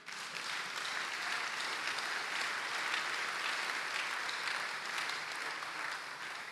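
A church congregation claps together in steady, sustained applause. The clapping is dense and even and fills the whole stretch at a fairly close, full level, with no voices standing out.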